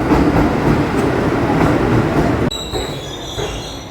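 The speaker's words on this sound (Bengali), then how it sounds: "অবশেষে আমার ট্রেন চলে এসেছিল" A passenger express train pulls into a railway platform with a loud, steady rumble of wheels, then a high metallic squeal of braking wheels as it slows, with no talking.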